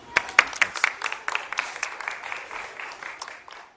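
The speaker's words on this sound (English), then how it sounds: "So please give a round of applause to Dr." Audience applause for a lecture speaker on the North Carolina coastal atlas, beginning with a few sharp distinct claps that quickly thin into lighter, uneven clapping from a modest crowd, fading toward the end.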